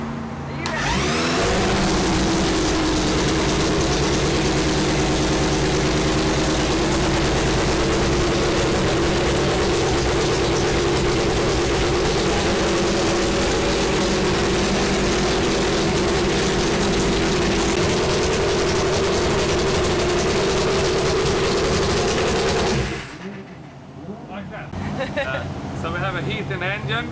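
A drag racing engine at the NitrOlympx event in Hockenheim, Germany roars loudly and steadily right after starting, a dense close-up blast for about twenty seconds before cutting off abruptly into quieter background noise.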